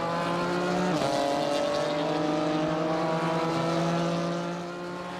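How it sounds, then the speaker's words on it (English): Racing car exhaust in Assetto Corsa Competizione, a GT4 car with a raspy note, holding a steady loud drone with a brief gear-change dip near the start, then settling and fading slightly toward the end. "The characteristic raspy exhaust note is very prevalent"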